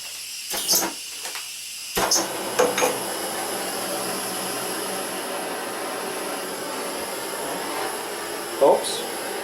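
A propane torch heats a copper plumbing fitting for soldering behind a shower valve in a basement bathroom, with a sheet metal shield behind it. After a few short knocks, it roars as a steady, close, loud hiss, with faint voice fragments.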